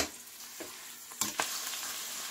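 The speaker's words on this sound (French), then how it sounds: "Je vais bien dorer les morceaux de viande." Meat pieces browning in a pot, a soft continuous sizzle near at hand with a few sharper crackles and stirring clatters toward the middle.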